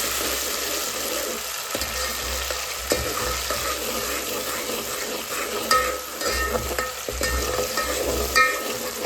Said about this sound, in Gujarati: દાણા આપણે છે ને તેલમાં જ ચેડવાના છે તો થોડી વાર દાણા ચડશું